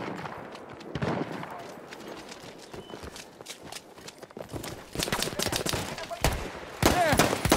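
Machine gun fire in Battlefield 1, with scattered crackling shots that thicken into dense rapid bursts near the end. Background battle noise and faint speech sit underneath.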